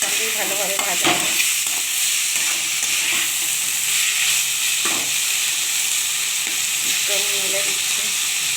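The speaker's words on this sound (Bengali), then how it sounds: "তাই আমি খোসাটা দিয়ে দিলাম। খোসাটা দিয়ে এর সঙ্গেই ভালোভাবে ভাজা হবে।" Boiled pointed gourd and potato peels fry with onion and black cumin in a pan, giving a loud, steady sizzle throughout with occasional stirring scrapes and clicks.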